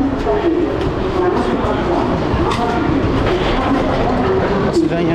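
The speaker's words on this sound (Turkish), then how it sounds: "İndiğimiz durak Leningradski tren garı." A train rumbles steadily and loudly with a constant mechanical roar and occasional rhythmic clatter at Leningradsky railway station in Moscow, as on a busy station platform.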